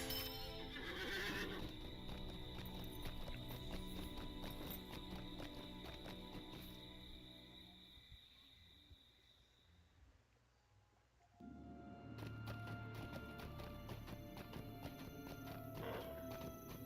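Inside Lord of the Rings Online, a horse whinnies loudly near the start, then hooves clip-clop over a looping game soundtrack that quiets briefly before swelling back in.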